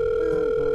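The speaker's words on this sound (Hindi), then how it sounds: "आओ पहले मैं जल्दी से टोनी भैया को फोन मिला के बता दूं" A steady telephone tone sounds while a call is placed, a single continuous electronic hum, loud and close, with no voices.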